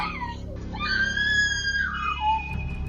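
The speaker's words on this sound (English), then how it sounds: "That scream will echo in my head for many years." A long, high, piercing scream rises and holds, then bends downward and fades, loud and close over a steady low rumble of background noise.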